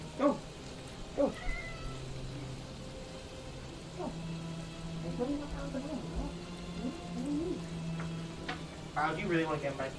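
A house cat meows several times, short and close, in a quiet room beside a steady low hum, with a person talking quietly in between.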